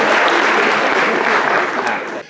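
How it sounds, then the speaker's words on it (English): Dense audience clapping during a live storytelling talk, a loud, steady burst of many hands that fades out at the end. "Yes, you can clap for that."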